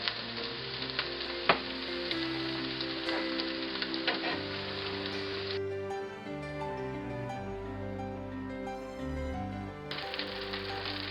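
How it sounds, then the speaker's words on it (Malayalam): Beef fried rice being stirred in a hot pan, with a steady close sizzle and crackle broken by sharp scraping clicks of the utensil, continuous and fairly loud throughout with no talking. "വീണ്ടും നമ്മൾ ആ പഴയ പോലെ സ്റ്റൈലിൽ ഇളക്കി കൊടുക്കുക"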